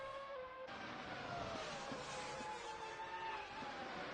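2000-era Formula 1 V10 engines in Assetto Corsa scream at high pitch in a sustained, rising wail of several cars racing together, loud and continuous.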